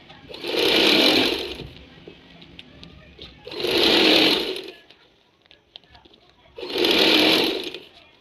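A sewing machine runs three steady bursts of stitching along a trouser seam. Each burst lasts about two seconds, close and loud, with short quiet pauses between them.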